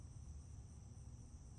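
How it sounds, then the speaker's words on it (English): Crickets and other night insects call in the mountains of the Cumberland Gap, a steady, faint, dense chirring chorus that runs unbroken with no voices. "while you hear the crickets and those night insects calling"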